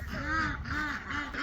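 Several ducks quack repeatedly in a rhythmic series of nasal calls, close by and moderately loud.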